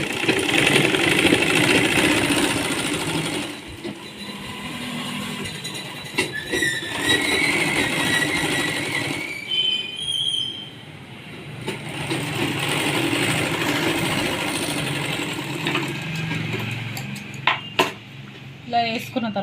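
A sewing machine runs a steady, loud stitching whir along a folded half-inch hem on the fabric of Punjabi dress pants. The motor drops out briefly midway, then restarts, and a voice talks over the machine noise.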